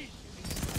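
Rapid SMG fire in Call of Duty: Vanguard from a Global Actor blueprint, a dense burst that opens partway in and carries loud to the end.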